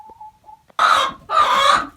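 Hens on a small egg-laying farm in winter, a faint short cluck followed by two loud raspy squawking calls close by, no voices.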